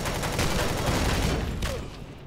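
Turrets in the sci-fi game Empyrion Galactic Survival fire a dense, rapid, continuous burst of gunfire that sounds loud and close, then trails off slightly at the end.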